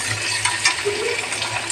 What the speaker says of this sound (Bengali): এই দেখো পেঁয়াজটা একটু ভাজতে আছি আমি।